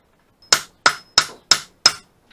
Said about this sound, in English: I'm not going to hammer it anymore.